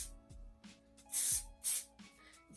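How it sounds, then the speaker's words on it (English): Hairspray from an aerosol can misted onto wavy hair in two loud, close hissing bursts, each lasting under half a second, with quieter handling noises between them. "Just gonna give it a spray."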